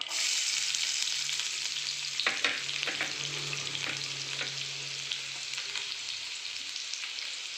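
Steady bright sizzle of onion frying in hot oil after a tempering, with a few clinks and stirring scrapes and a low hum beneath.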